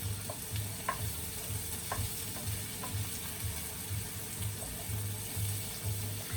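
An uncut block of butter, about 50 grams, melts in a pan for a fish pie sauce. A soft, steady sizzle and bubbling run low and close, with faint intermittent crackles.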